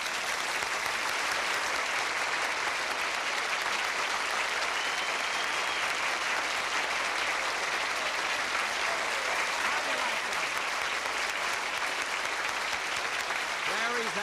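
A studio audience at a television variety show gives Jack Benny a long, even wash of applause, steady and unbroken for the whole stretch, with no clear speech over it.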